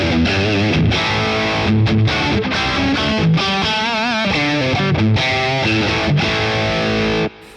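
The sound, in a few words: guitar distortion effect on Boss Katana amp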